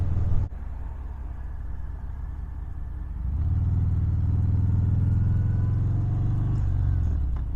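A 2020 Harley-Davidson Fat Bob 114 cruiser rumbles through a corner, its low engine drone steady at first, then swelling fuller and louder as the throttle opens, heard close and continuous.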